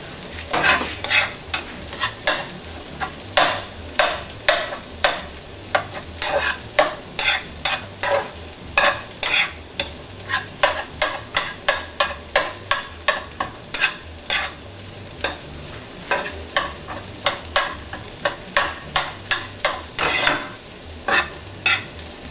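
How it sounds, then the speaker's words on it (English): Potatoes fry in a pan for samosa chaat, sizzling steadily while a spoon scrapes and taps through them in quick, regular strokes, close and clear with no talking. "The potatoes have been frying for 5 minutes"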